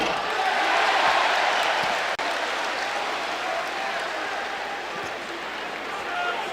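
Spectators at an SEC college basketball arena for a Kentucky game keep up a steady roar with applause-like swells, heard under a broadcaster talking throughout.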